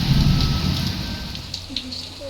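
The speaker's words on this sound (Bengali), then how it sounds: "বৃষ্টিটা তো দেখলেই কেমন পড়ছিল" Heavy rain pours down during Durga Puja festivities, a dense, steady roar of falling water with a deep rumble underneath and a few brief tones near the end.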